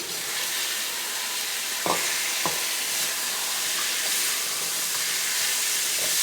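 Potatoes stirred into a tomato mixture frying in a pan for a mushroom potato curry: a loud, continuous sizzle and hiss, with a couple of short scraping knocks from the stirring.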